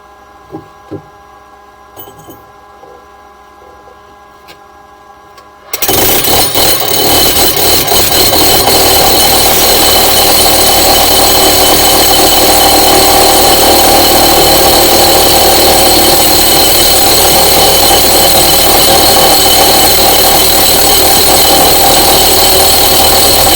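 A Milwaukee rotary hammer, the brand's largest, bores with a big 2.5-inch coring bit, starting abruptly after a few faint clicks and then hammering loudly and steadily at close range without a pause.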